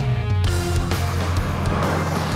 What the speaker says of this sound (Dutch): Kleine auto met een dikke V8 erin.